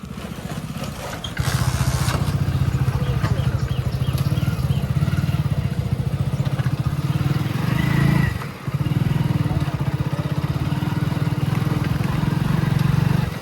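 A motorcycle engine starts with a kick and then settles into a loud, steady idle close by, its low throb continuous with a brief dip midway.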